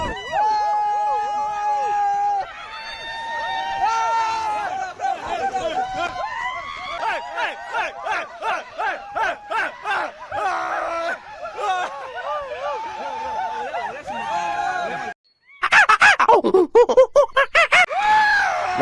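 People on a river rafting trip in Coorg shout and scream, in long loud wavering yells and rapid bursts of whoops and laughter, close and continuous, with a brief pause near the end.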